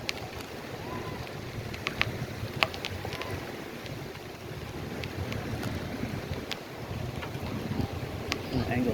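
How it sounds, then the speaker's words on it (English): Strong east-to-west wind on Fort Myers Beach, Florida, buffets the microphone in a steady broadband roar with gusty swells, over faint surf and scattered small clicks. "So there's a strong east to west wind."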